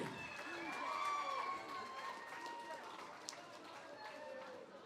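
A crowd at an amateur UKFC fight night applauds and cheers a fighter, a diffuse roar of claps and voices spread through the hall with no single clear voice on top.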